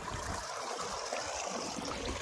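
Irrigation water running into a black gram field, a steady, dense rushing and trickling wash that continues unbroken throughout, with no voices.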